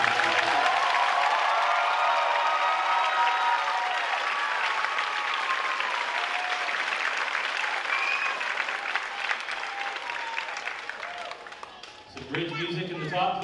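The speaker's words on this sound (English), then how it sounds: "One last round of applause for the class of 2023" Sustained crowd applause for a graduating class at a school promotion ceremony, full and steady, thinning slightly toward the end before a voice and sound rise at the close.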